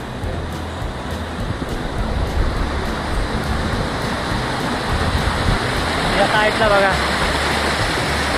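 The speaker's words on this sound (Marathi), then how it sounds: "किती पूर आले डोंगरामधला." Floodwater pours down from the hills in heavy monsoon rain, a steady, loud broadband rush with no pause. Someone speaks briefly over it.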